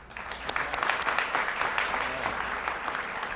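Audience applause at an awards ceremony for young people's book prizes, a dense steady wash of many hands clapping, loud and sustained with faint voices underneath.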